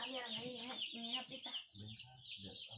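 Baby chicks peeping: continuous high, shrill chirping from many birds close by, with a person talking underneath.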